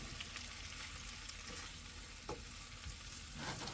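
Shrimp fry in a pan with a steady, close sizzle and a few stirring scrapes, alone and without talk.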